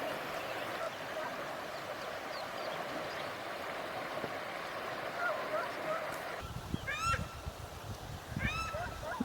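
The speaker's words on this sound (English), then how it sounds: "Paradise ducks, the breeding pair." A breeding pair of paradise ducks call by a river, sharp honking notes in quick clusters near the end over a steady flowing-water wash and low rumble.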